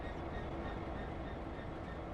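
A Network Rail work train in a train simulation game rolls along with a steady, continuous rumble of wheels on track, loud and unbroken throughout with no talk over it.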